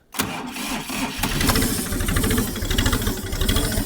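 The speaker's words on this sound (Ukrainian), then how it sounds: "Зараз увімкну масу, запустимо вам тракторця." A tractor engine cranks briefly and catches, then settles into a loud, steady diesel chug with a rhythmic knocking beat.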